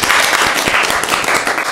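Short burst of applause from a small group of colleagues at an office gathering, dense steady clapping close by and alone.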